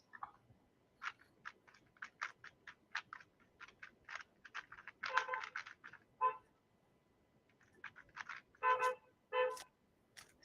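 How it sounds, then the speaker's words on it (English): A car horn honks from the street outside, with a series of short, separate toots of varying length, some clustered together and fairly faint against a quiet room. "Sorry if you hear honking from my side."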